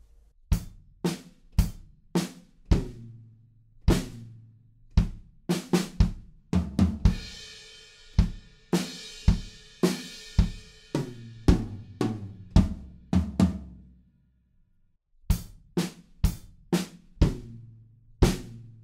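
A drum kit plays the opening two bars of a drum solo: rapid, close kick, snare and tom hits in a driving pattern, with a crashing cymbal wash through the middle and a short pause before the final strikes.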